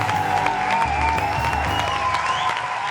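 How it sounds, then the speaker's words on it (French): Studio audience applause for a comedian guest from Benin, a steady, dense wash of clapping filling the whole stretch at even loudness, with a low hum of crowd noise beneath. "on va l'applaudir très fort, s'il vous plaît"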